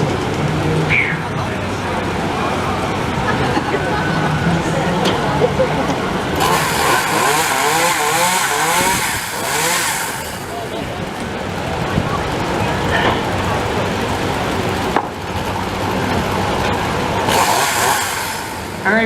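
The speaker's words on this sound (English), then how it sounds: "Real live chainsaw juggling." A chainsaw runs during a busker's juggling act at the CNE, its engine buzzing and revving continuously with surges in intensity, while a crowd and voices are heard around it.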